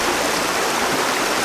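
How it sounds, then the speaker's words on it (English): Water cascades over rocks in a woodland stream, a steady, full rushing wash with no breaks, fairly loud and close, with no voices over it. "these cascades down here which will come to the right of the frame"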